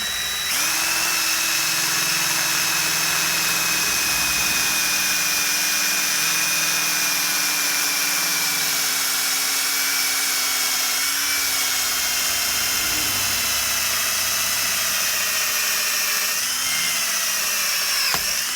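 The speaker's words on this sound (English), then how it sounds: "grab our handy dandy DeWalt and with our drill bit and drill a hole in it right here" A DeWalt power drill whines continuously at high speed while drilling a hole in an air nozzle, its pitch holding steady with slight dips near the end.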